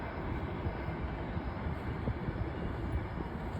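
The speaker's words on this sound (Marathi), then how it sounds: "आमच्या मागे ट्रेन चाललेली आहे" A train rumbles past at a distance, heard from farm fields: a low, steady rolling drone with faint wind over it.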